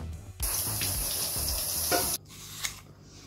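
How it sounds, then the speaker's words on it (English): A shower runs hard for about two seconds while rinsing dye off a denim jacket, a close, steady spray that cuts off abruptly, followed by faint dripping and handling. "I should wash off dye with the shower"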